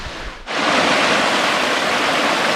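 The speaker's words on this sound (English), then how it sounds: "Wish I could zoom in, but kind of a cascade down there, a small one." A small cascade on a mountain creek along a Great Smoky Mountains trail rushes in a steady, dense wash of water noise that starts abruptly after a brief quieter moment and continues loud and unbroken.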